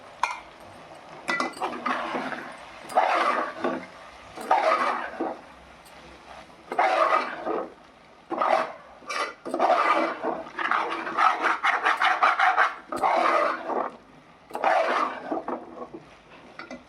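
Sesame seeds being coarsely ground for a nuvvula podi spice powder, heard as rhythmic bursts of rasping, scraping grinding separated by short pauses, fairly quiet.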